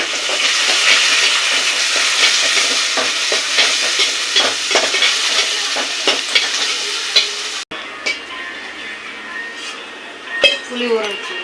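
Mustard seeds, urad dal, onion, curry leaves and green chilies fry with a loud, crackling sizzle and clinks of a spoon against the pan, easing to quieter scrapes and taps near the end.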